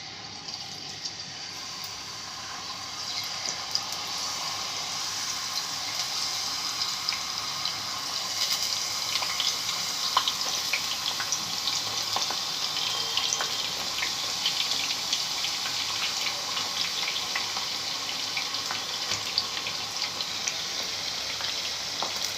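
Cut potato pieces frying in heated oil in a home kitchen, a steady close sizzle and crackle that stays even and unbroken throughout, with no talking over it.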